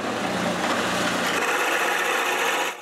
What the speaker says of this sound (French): je perce un trou un peu plus petit qu'une boule sur un bout de bois